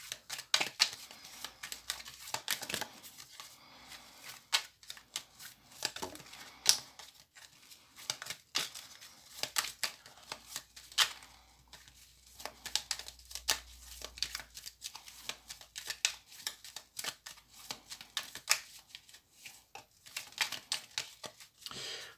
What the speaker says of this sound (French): Je vais donc faire la coupe. Je vais maintenant étaler les cartes